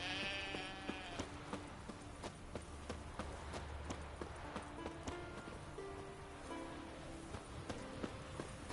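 A sheep bleats in The Witcher 3 video game, a few wavering nasal calls early on mixed with clicks, hoof-like taps and game ambience.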